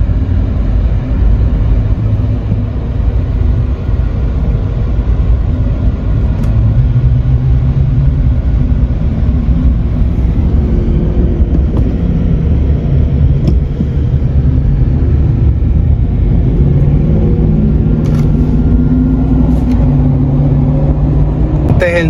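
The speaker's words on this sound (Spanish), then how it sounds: "El número 3 carro bomba de los bomberos que pasa por ahí." A number 3 fire engine (pumper truck) passes by, heard as a loud, continuous engine rumble with shifting tones over a dense street background, and a voice talks over it.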